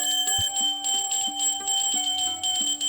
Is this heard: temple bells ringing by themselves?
yes